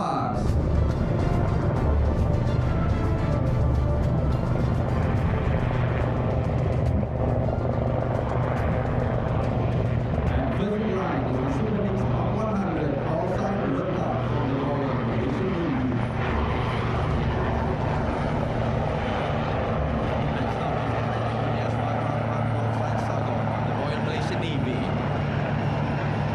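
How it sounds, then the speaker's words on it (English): Military helicopters, including a Royal Malaysian Navy AW139 maritime operations helicopter, pass in line astern formation at a maritime and aerospace exhibition in Langkawi, their loud rotor and engine roar sustained throughout as a commentator talks over it. "they are going to fly in the line astern formation, and here they come. The helicopters fly past."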